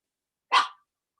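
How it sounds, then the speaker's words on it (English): A single short, sharp dog bark rings out near and loud in an otherwise silent moment. "that's my dog barking"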